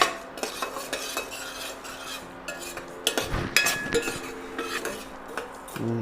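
Ingredients for kollu kanchi, a horse gram porridge, are dry-roasted in a pan as a spoon stirs and scrapes in irregular metallic clinks and knocks, close up with a faint background hiss.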